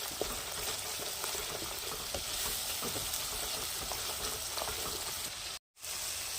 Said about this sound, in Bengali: এবার এই মশলাটাকে ভালো করে কষিয়ে নেব।